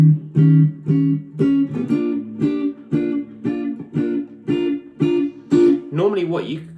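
An electric guitar plays the closing bars of a 12 bar blues as steady, evenly spaced chord stabs, loud and close, ending with a short sliding flourish.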